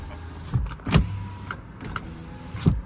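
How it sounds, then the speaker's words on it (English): Front electric windows on a 2014 Kia Venga 1.4 EcoDynamic hatchback run up and down, giving several short motor whirs that each end in a soft clunk, close by inside the quiet car cabin. "Electric windows in the front."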